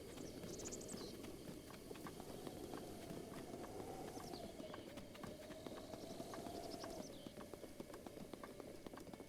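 Hoofbeats of a horse galloping in Zelda: Breath of the Wild, a steady rapid clip-clop running continuously under game music and ambience, with faint chirps above.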